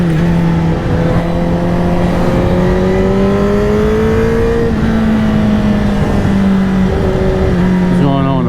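A Honda CBR1000RR sport motorcycle engine running loud and close, holding a steady droning tone that slowly climbs in pitch and dips briefly before rising again, with no break in the sound.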